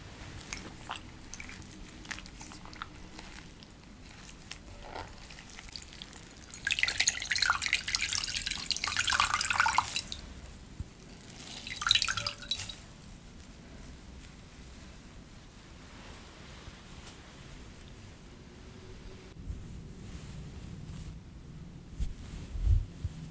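A washcloth is dipped in water and wrung out, in a soft-spoken home care setting; faint drips and trickles give way to a few seconds of close splashing and dribbling, then a second brief burst, before quieter dripping resumes.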